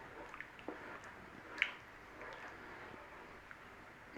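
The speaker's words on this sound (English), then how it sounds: "Stir that in." Worcestershire sauce stirred into goulash in a pot, faint soft squishing and wet clicks from the spoon, quiet and close, with no talking.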